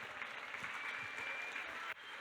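A church congregation claps together in steady, dense applause that fills the hall evenly, with a brief dip near the end.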